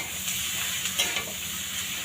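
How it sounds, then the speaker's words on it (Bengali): Sliced onions sizzle in a hot pan while a utensil stirs them, a steady close frying hiss broken by a few light scraping clicks. "পেঁয়াজগুলো ভাজা ভাজা হলো, আমি এবার এগুলো এখানে দিয়ে দেবো।"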